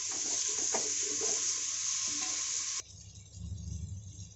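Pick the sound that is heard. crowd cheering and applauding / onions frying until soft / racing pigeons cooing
onions frying until soft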